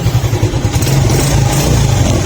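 A Honda Smash 115 motorcycle engine running, a steady close-up low thrum that stays loud and even throughout with no talk over it.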